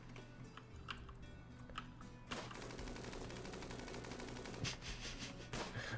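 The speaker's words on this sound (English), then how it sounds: "What a horrible hail of gunfire to meet." Bursts of rapid gunfire in the colony-building video game RimWorld, clustered automatic shots and sharp cracks that grow denser and louder partway through, layered over a low, steady game soundtrack.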